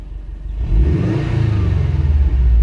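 A 2012 Subaru WRX hatch with a Greddy Supreme SP exhaust revs up from idle into a deep, loud, throbbing drone that holds steady, close by with no talking.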